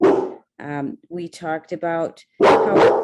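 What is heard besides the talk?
dog barking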